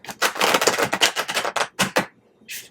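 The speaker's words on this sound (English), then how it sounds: "One more shuffle." A deck of cards is riffled and shuffled in a quick, dense burst of crisp flutters and snaps, close and alone, ending with a short final riffle.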